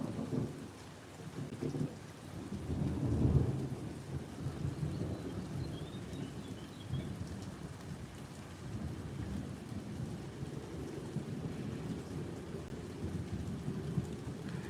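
Steady rain pours while low thunder rolls and swells early on, then a continuous soft wash of rainfall carries on at a moderate distance.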